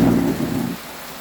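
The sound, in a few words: heavy rain with thunder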